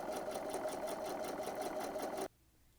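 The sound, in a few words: sewing machine stitching a straight seam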